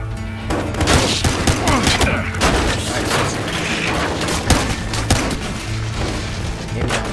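Loud, rapid volleys of gunfire in the video game Battlefield Hardline, sharp repeated shots and heavy booms clustered close together, with some speech mixed in.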